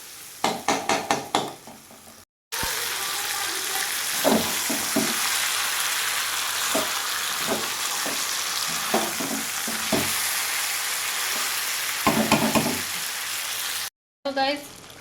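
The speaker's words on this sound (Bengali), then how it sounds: "তো দেখো মশলা কষানো চলছে" Spice paste with tomatoes frying in a little oil for a Bengali meat curry, a steady sizzle broken by repeated scraping stirs, close by, with brief knocks at the start and short gaps.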